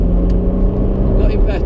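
A Brera's engine revs up on the Anglesey race track after heavy braking into a turn, a loud steady drone close by, while a driving coach keeps talking over it.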